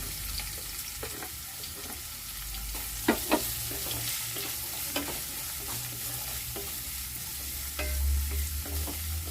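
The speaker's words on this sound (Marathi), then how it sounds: "छान आपल्याला परतून घ्यायचा आपल्याला कांदा." Two medium-size onions sautéing in a pan after garlic, a steady close sizzle broken by scraping stir strokes and a few sharp clinks of a spoon against the pan.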